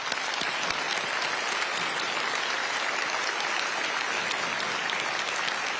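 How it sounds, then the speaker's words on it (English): A large audience applauds steadily at the Martin Luther King Jr. holiday breakfast, with dense, even clapping filling the whole stretch and no voices over it. "that's something worth clapping for"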